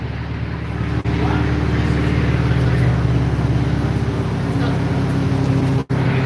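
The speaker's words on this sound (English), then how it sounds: "So new exhaust on that car." A car with a new exhaust runs steadily on a dyno, giving a continuous loud engine drone with a deep low rumble that holds constant throughout.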